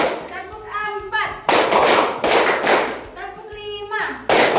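Children clap together in bursts to a beat counted out at a morning school lesson, with an adult voice speaking between the rounds of clapping.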